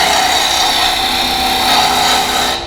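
A wood lathe runs at speed while a gouge turns a wooden handle blank, giving a loud, steady scraping rasp that fades out at the end. Nobody speaks.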